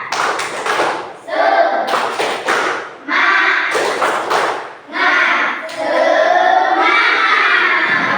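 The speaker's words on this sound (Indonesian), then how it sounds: "Coba tepuk semangat." A class of children claps out the rhythmic 'tepuk semangat' chant in a classroom, loud patterned bursts of hand claps and thumps broken by short pauses, with young voices chanting along.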